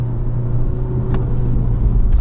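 A BMW 520d M Sport diesel sedan pulls hard out of a corner on a test drive, its engine a loud, close, continuous low drone with a steady hum that builds slightly toward the end, with no voices.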